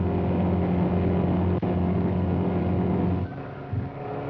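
A 1962 Ford Mustang with a 1.5-litre engine runs at about 120 mph and 6,100 RPM on the Daytona Speedway oval, giving a loud, steady engine drone that cuts off abruptly, leaving a lower rumble.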